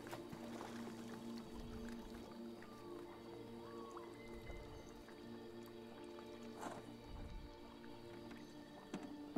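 Oars dipping and pulling through water as a rowboat is rowed in the video game Detroit: Become Human, giving soft periodic splashes and drips at a quiet, steady pace.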